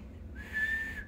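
A person whistling a single sustained, slightly wavering note, fairly soft and close, alone over faint room noise.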